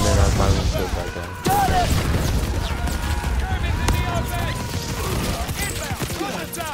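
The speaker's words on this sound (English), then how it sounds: "And so I threw like another grenade." Grenade explosions and gunfire in a Call of Duty WW2 battle crack and boom in rapid bursts, loud and close, while voices talk over the chaotic combat.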